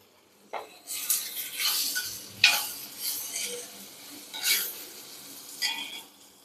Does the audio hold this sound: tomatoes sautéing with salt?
yes